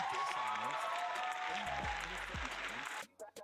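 Canned applause clip fired from a stream deck, a dense wash of clapping and crowd noise running steadily before cutting off abruptly near the end, with a voice talking over it.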